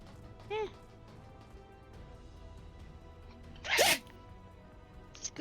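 A sneeze abruptly cut off by a Discord noise gate, a short sharp burst of breath that stops suddenly, following a brief high squeaky sound earlier and faint background game audio.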